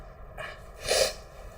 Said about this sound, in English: I'm going to start sneezing because this is going right into my nostrils